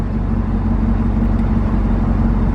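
A Chevrolet Camaro in sport mode rumbles with a steady, loud low engine drone, holding near idle with no distinct rev spikes and no voices over it.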